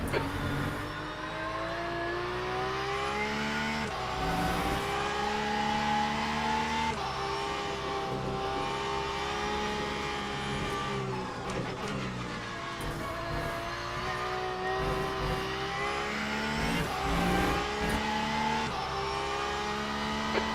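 A Mustang GT race car engine in the racing game Le Mans Ultimate roars continuously, its pitch rising and falling with gear changes, loud and close with no talking.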